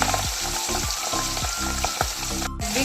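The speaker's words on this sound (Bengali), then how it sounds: "একে একে করে আমি দিয়ে দিচ্ছি মাছগুলো" Pabda fish fry in hot oil with a loud, steady sizzle, pulsing in regular waves of spitting and crackling up close, with no talk over it.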